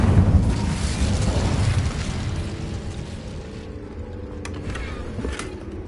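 A fire spell, Incendio, cast in Hogwarts Legacy, a broad roaring whoosh of flame that swells at the start and slowly fades over several seconds, with faint magical shimmer tones toward the end.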